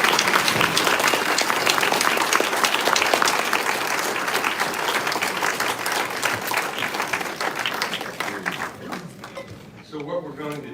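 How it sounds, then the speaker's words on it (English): A round of applause for all the candidates at a civic candidate forum fills the room with loud, dense clapping that gradually thins and fades toward the end. "a round of applause for all of the candidates"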